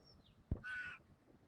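A wild chough gives a single short, harsh, crow-like caw, close by, over quiet outdoor background with a faint soft thump just before it.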